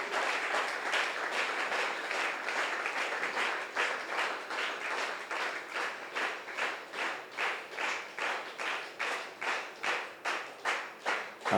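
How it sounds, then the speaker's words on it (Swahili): A congregation at a church seminar on prayer applauds as the pastor and teacher arrive. Scattered applause settles into steady, rhythmic clapping in unison, heard at a moderate distance with no talk. "Naomba tumpe makofi mchungaji wetu na mwalimu wetu wanapokuja."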